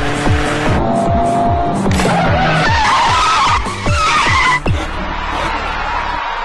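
Race car tires skid and squeal hard under braking, a loud close screech with repeated sharp engine and gear-change bursts, fading out toward the end.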